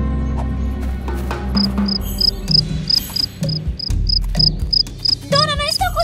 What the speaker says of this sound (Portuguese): não estou conseguindo pegar esses grilos fujões!